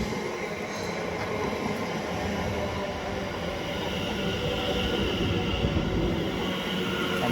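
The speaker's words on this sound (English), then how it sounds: "coming now is the 12:19 Greater Anglia service from London Liverpool Street to Southend Victoria, worked by 720" A Greater Anglia Class 720 electric train runs steadily through Shenfield station, with continuous loud rumble and wheel noise and a broad hiss from nearby.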